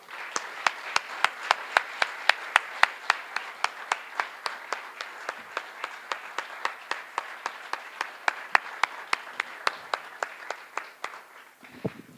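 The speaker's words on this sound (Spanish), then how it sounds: "les pido por favor para ellos un fuerte, fuerte aplauso" Slow, rhythmic clapping from a small audience thanking venue staff after a conference talk, each clap sharp and distinct at a regular pace, fairly faint overall, with a low voice starting near the end.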